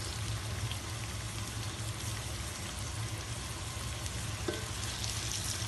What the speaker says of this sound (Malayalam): അതിന് സവാള ഇട്ട ശേഷം ഒന്ന് ചെറുതായിട്ട് ഇളക്കി കൊടുത്തതിന് ശേഷം ഇച്ചിരി ഉപ്പ് നമുക്ക് ചേർക്കാം.